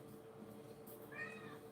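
A cat meows once or twice in a quiet room, a short rising and falling call near the end that sounds fairly close but soft, with no talking.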